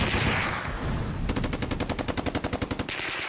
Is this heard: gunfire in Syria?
yes